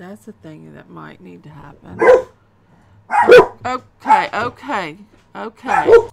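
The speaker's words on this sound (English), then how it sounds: "Sorry about the barking." Dogs bark in bursts from a neighboring yard in town, loud yips and woofs layered with someone talking over them.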